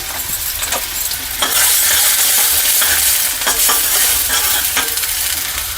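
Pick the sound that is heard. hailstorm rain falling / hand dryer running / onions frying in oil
onions frying in oil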